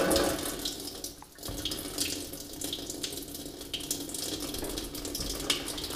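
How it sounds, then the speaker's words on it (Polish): Water rinsing through the tap of a homebrew beer fermenter with Oxy sanitiser: a steady close splashing flow, briefly interrupted once before running on. "Z fermentorem robimy coś takiego, że przepłukujemy kranik oksy, tak?"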